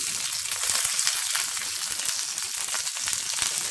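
Steady, crackling sizzle of curry leaves and asafoetida frying in hot oil for a tempering, loud and close, with dense popping spatter throughout and no voices.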